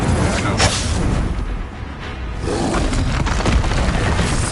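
Booming spell blasts and whooshing impacts from a wizard duel in the video game Hogwarts Legacy, with an Expulso explosion spell erupting amid continuous loud combat noise; a voice calls out spells over it.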